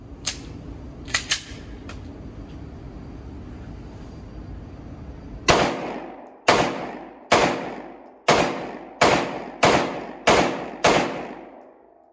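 A CZ P-10 C pistol fired at a range: eight sharp, loud shots at a steady pace, each with a quick decaying echo, after a few lighter clicks and handling noises over a low background hum.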